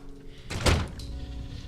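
A door in Fallout 3 opens with one heavy, dull thunk and a short scraping swell. The sound stands alone over a faint low ambient hum.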